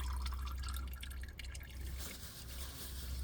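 Engine oil drains from the oil pan of a 2024 Lexus RX 350 in a continuous close trickle and drip, steady throughout over a low background rumble.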